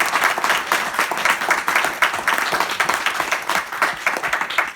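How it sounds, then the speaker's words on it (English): An audience claps steadily for several seconds, a dense, even round of applause from a room full of people, with no voices standing out. "I wanted to give you one more round of applause for the phenomenal work"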